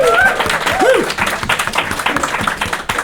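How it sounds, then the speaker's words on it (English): Live audience at a tabletop roleplaying game convention applauding the game master, clapping and cheering at close range, with a loud start that softens slightly and some whoops over the claps. "Can we get an even bigger round of applause for our long-suffering GM, please?"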